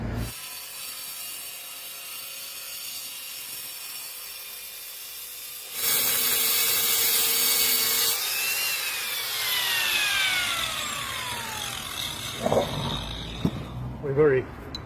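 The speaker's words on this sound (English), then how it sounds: "I'm now going to cut that with a very thin stone cutting blade." A very thin diamond stone-cutting blade cuts along a pencil line in stone. After a quiet stretch, a loud, steady high whine starts midway and shifts in pitch as it bites, with a person talking throughout.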